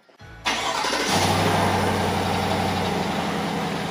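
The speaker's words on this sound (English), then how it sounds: "let's do our first cold start with the new intake" A cold start of a GMC Sierra AT4 with a 6.2L engine fitted with an S&B cold air intake: a short starter crank, then the engine catches with a loud surge and settles into a steady, close rumbling idle.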